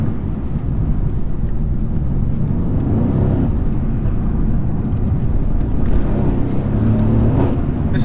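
A 2017 Mercedes C63S, driven in Race mode on a tight B road with the panoramic roof slightly open, gives a steady, loud, deep engine rumble and road roar from inside the cabin, without a break.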